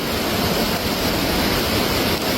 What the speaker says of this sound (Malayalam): ആ കല്ലെല്ലാം മൂടി, വെള്ളം കൂടിക്കൊണ്ടിരിക്കുകയാണ്.